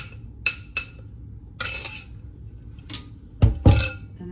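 Pancake batter with dry ingredients being mixed in a bowl: a few separate clinks and scrapes against the dish, close by, ending in a heavier knock and clatter.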